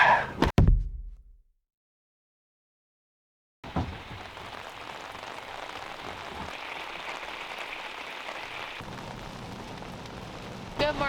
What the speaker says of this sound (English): Good morning from rainy Scotland.